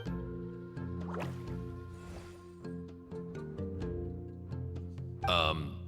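Water droplets fall in Genshin Impact, a run of soft, close plinks and drips over a sustained tonal game backdrop, ending with a brighter splashy flourish.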